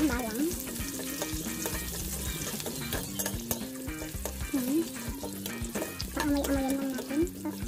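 Garlic sautéing in a pan as the start of a chicken estopado sauce, a dense continuous sizzle and crackle with occasional stirring scrapes, close and fairly loud, while a person talks intermittently over it.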